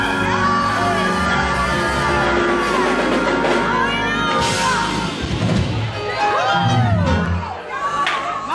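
A church congregation at a praise break erupts in loud screaming, yelling and whooping, many voices overlapping in a sustained, rising roar that swells and dips throughout.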